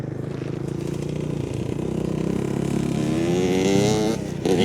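Dirt bikes and RZR side-by-side engines revving outdoors, a steady droning roar that rises in pitch and loudness, then dips briefly before surging again.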